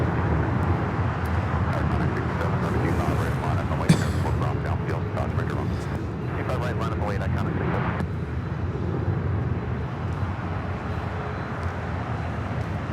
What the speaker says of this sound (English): That is Suave Menta taking off to Newark